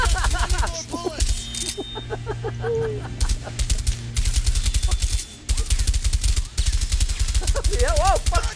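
Dense automatic gunfire rattles through a shootout in the video game A Way Out, loud rapid bursts running almost continuously, with voices shouting over the shooting.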